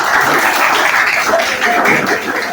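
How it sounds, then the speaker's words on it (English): Applause from a Grade 12 class audience at a school, a dense burst of clapping that holds steady for a couple of seconds, loud and close, with no voices over it. "Give them a clap."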